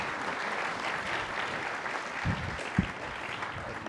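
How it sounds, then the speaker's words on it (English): Audience at an economics panel event gives steady, moderate applause throughout, with a couple of louder close claps near the end. "So give them a nice round of applause"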